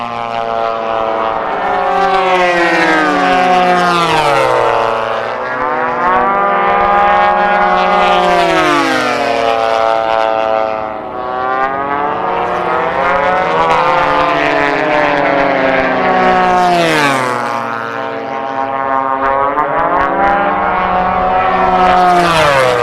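Loud propeller engines of racing airplanes at a pylon race roar continuously, their pitch swooping up and down repeatedly as the planes pass close by at high speed.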